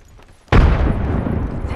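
A frag grenade goes off in a video game, a sudden loud blast after brief quiet that rolls into a sustained, rumbling roar lasting over a second.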